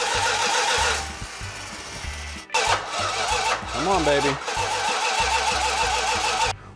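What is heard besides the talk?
440 Six Pack engine starting on a run stand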